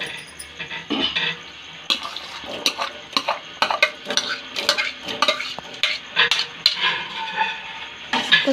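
Fruit pieces stirred in a pot of boiling water with lemon juice, a spoon scraping and clinking against the metal in quick irregular strokes over a bubbling, sizzling background.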